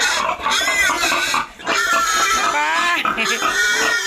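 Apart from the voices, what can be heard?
noisy hungry pigs on a farm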